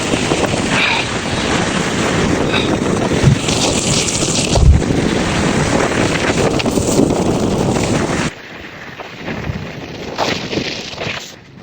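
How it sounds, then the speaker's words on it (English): Strong wind roaring across an exposed mountain ledge on Pen y Fan, buffeting the microphone in a loud, continuous rush for about eight seconds before dropping to a softer, gusting blow. "Couldn't even stand here because the wind coming up, the ledge was crazy."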